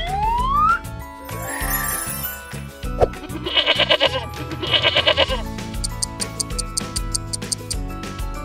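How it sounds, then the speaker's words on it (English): Two wavering goat bleats ring out in succession over a light, bouncy music track with ticking and chimes around them. "Goat."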